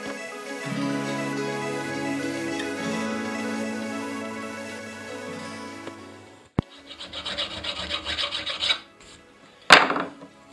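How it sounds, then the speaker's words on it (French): A drilled piece of scrap metal held in a vise is deburred with a hand file, giving harsh rasping strokes up close. These follow a droning tonal hum from a tool, with a sharp clank partway through. "j'ai mis un petit coup de lime ou un petit coup de meuleuse de chaque côté pour enlever les bavures"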